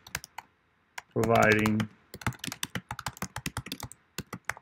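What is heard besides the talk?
typing on a computer keyboard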